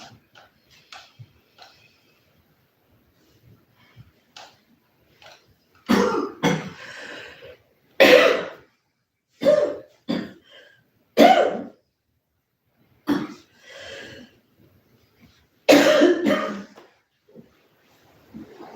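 Scattered coughs and throat clearing, starting faint and sparse, then several louder, harsher coughs in irregular bursts with quiet gaps between.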